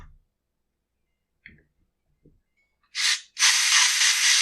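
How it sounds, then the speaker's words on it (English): Compressed air blasts concrete dust out of the carburetor adjustment screws on a Husqvarna K970 power cutter: a short hiss, a brief pause, then a longer steady close blast, after a few faint clicks. "I'm just blowing some of the concrete powder out of the carb adjustment screws"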